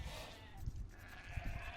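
Sheep bleat faintly in Age of Empires 2: Definitive Edition, two or three short soft calls rising over a quiet in-game background hum.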